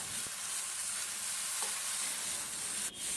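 Ridge gourd fries in a pan with a steady, close sizzle and occasional stirring scrapes, and no one talks.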